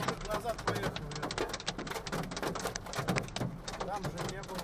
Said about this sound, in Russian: Пацаны, град ебашит.